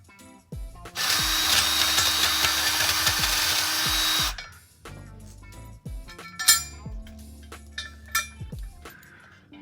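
A power drill bores through a Jeep wheel being adapted for a Porsche Cayenne, a loud whirring burst lasting a few seconds, followed by metallic clinks and taps of parts and tools nearby.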